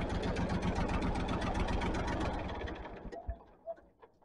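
A tractor engine with an ignition fault idles with a close, steady rhythmic chugging, then sputters and dies once the fuel is shut off, leaving a few faint knocks.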